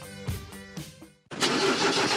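A diesel engine cranks over in a few uneven starter pulses, falls briefly quiet, then catches and settles into a loud, steady running roar close by.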